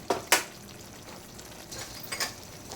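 String beans frying in a pan for Bicol express, a low steady sizzle broken by a few sharp scraping clatters of stirring near the start and again toward the end.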